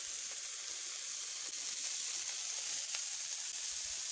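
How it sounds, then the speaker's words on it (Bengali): Shrimp fry in hot oil in a pan over a traditional clay stove, a constant bright sizzle with occasional sharper pops and crackles, close and alone. "চিংড়ি মাছটা এবার ভাজতে লাগলাম আমি।"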